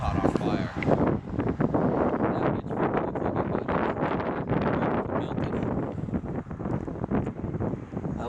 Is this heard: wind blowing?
yes